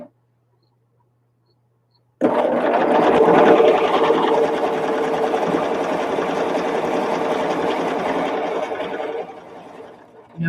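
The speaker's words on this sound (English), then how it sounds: "Notice I'm stitching faster?" A home sewing machine stitching quilt fabric fast runs in one steady, loud, continuous whir for about eight seconds after a short silence, then trails off near the end.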